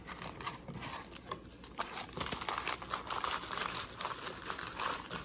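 A stack of trading cards pulled from a box and shuffled together by hand, giving a steady, close run of papery crinkling, riffling and soft patter that continues without pause and with no talking.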